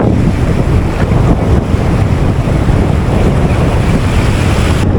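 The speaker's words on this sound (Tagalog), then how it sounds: "Lakas na yung hangin" Strong wind buffets the microphone in a steady, loud roar on a fishing trip at sea, with surf and open water churning underneath throughout.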